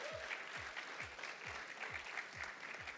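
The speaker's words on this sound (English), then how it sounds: "Round of applause for Cohort 2022." An audience applauds a startup cohort at a showcase event, a faint, steady wash of clapping with regular soft low thumps running underneath, heard from a distance.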